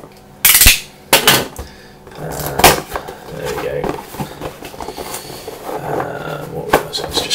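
A trusty knife slicing open a cardboard unboxing package, with sharp scraping cuts and taps up close, followed by rustling and handling noises at a moderate level.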